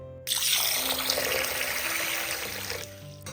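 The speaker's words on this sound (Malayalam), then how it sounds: "അതിനുവേണ്ടി കുറച്ച് വെള്ളം ഒഴിച്ച് വെക്കാം." Water runs steadily from a tap into a bowl of washed green gram to soak it, a continuous close splashing flow lasting a few seconds before it cuts off.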